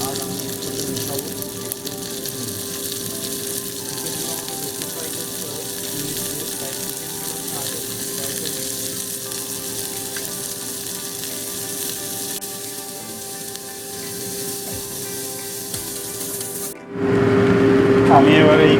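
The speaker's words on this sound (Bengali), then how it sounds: "তেল গরম হয়ে এসেছে, আমি এর মধ্যে চিকেন টুকরোগুলো যেগুলো কেটে রেখেছিলাম সেগুলো দিয়ে দেবো।" Chicken pieces fry in hot mustard oil in a kadai, making a steady crackling sizzle throughout; near the end the sound jumps louder and harsher, as if the pieces just went in.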